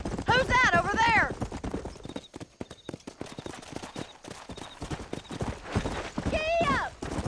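Horse hooves clip-clop in a steady galloping rhythm in the Western video game Red Dead Redemption, with people talking and horses whinnying over the hoofbeats.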